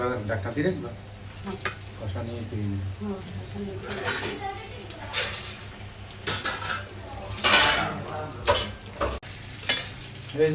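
Fish frying in a pan over a low stove flame, with a steady sizzle under repeated clattering of a metal spatula and pan, and a voice talking over it.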